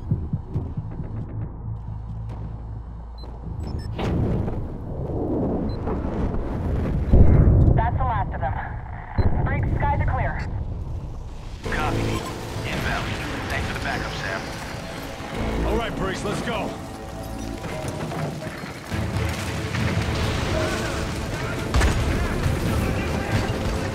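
Explosions boom and rumble through a collapsing enemy base in the video game Splinter Cell Blacklist, with heavy low-end throbbing and debris noise running the whole stretch under music and a voice talking.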